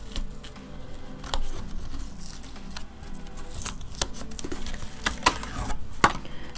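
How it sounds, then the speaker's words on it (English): Scissors cut through art cards upstairs in a home studio, giving a string of sharp irregular snips and paper crinkles with soft handling noises between them and no voices. "I'll show you real quick when I cut them. I usually don't use a scissors."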